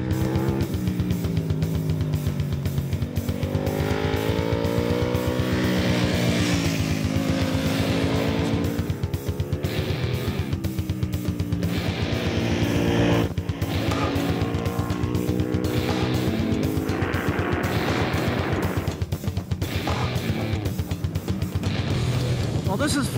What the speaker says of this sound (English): We're riding around a track on adventure bikes.